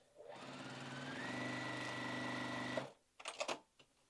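A sewing machine runs steadily for nearly three seconds while stitching a foundation paper-pieced quilt block, a close mechanical hum and rapid needle chatter, then stops, followed by a few quick clicks and small handling knocks.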